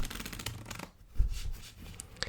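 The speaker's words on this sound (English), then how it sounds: "flip the cards over and shuffle them face up into face down" Playing cards are shuffled together, some face up into others face down, giving close, crisp riffling and soft slapping with a brief thud midway and a sharp flick near the end.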